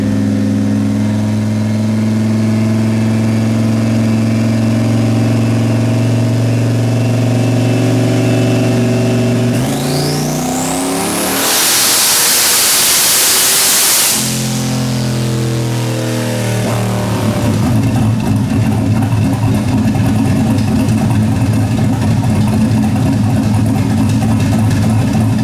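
Car engine running hard on a dyno during an ignition-curve tuning pull, a loud sustained roar that sweeps up to a screaming peak, drops off, then settles into rough steady running, close with no talk.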